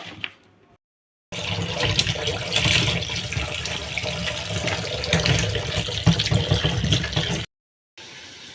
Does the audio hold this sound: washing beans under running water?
yes